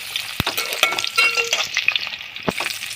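Sliced onions frying in a pan for vegetable biryani, a close crackling sizzle punctuated by a couple of sharp knocks and scrapes of a spatula stirring them, fairly loud with no voices.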